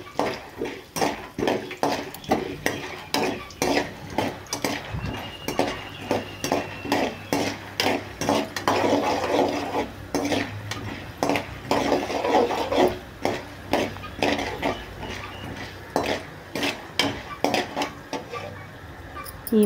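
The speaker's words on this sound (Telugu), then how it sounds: "కొంచెం ఆయిల్, మినప్పప్పు, వేరుశనగపప్పు వేయించుకోవాలండి." Urad dal and peanuts frying in a little oil for lemon pulihora, stirred in a pan with steady rhythmic scraping and clinking of a spoon against the metal over a low sizzle, close and fairly loud.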